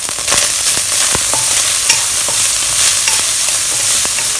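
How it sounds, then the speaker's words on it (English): Rinsed whitebait frying in a little oil in a pan over medium to medium-low heat, a loud, close, steady crackling sizzle with frequent sharp pops and spatters, no voices. "At medium to medium low heat, we are going to fry this until crispy and take them out."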